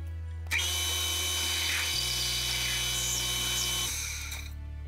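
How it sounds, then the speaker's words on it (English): A power drill whines loudly and steadily while countersinking screw holes in a custom aluminum boat clamp, its motor pitch shifting partway through as the cutter bites the metal, then winding down. "I'm going to go in and put countersinks on the 2 main body holes"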